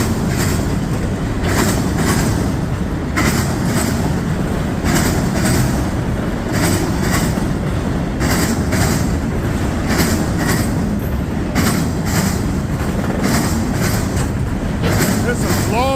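A long freight train carrying auto racks rolls past close by. Wheels clack in a steady rhythm over a continuous loud rumble, with a faint squeal near the end.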